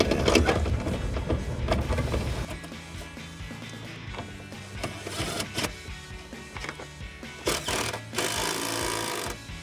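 A ratchet or power tool tightens a bolt on the bracket of a running board on a 2007-2018 Chevrolet Silverado 1500. It makes a busy, rattling mechanical whir with sharp clicks and knocks, close and fairly steady for several seconds, with no talking.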